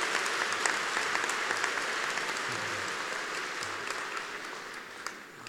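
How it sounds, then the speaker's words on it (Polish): Church audience applauding for Pope Francis during a Polish archbishop's talk, steady massed clapping in a large reverberant space that slowly fades toward the end. "To by brawa dla papieża Franciszka, oczywiście."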